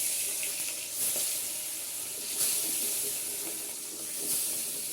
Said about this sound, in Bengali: কড়াইতে তেল দিয়ে বসিয়ে দিয়েছি, তেল গরম হলে মাছটা ভেজে নেব